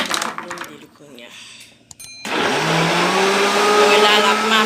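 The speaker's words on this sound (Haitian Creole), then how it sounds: "Blender le kounya." A kitchen blender kicks on partway through and runs loud and steady, whirring as it purées Haitian epis seasoning with oil and vinegar, after a moment of talk and clatter.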